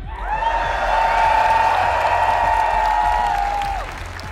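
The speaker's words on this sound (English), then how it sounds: "You guys cheer for every kill, every moment in the game" Esports arena crowd at a CS2 grand final, cheering and applauding in a loud, sustained roar with a held chant-like tone riding over steady clapping for about four seconds.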